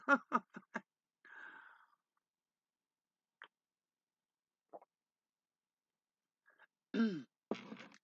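A few short coughs and a throaty clearing sound, separated by long silences, with a final louder burst of coughing near the end.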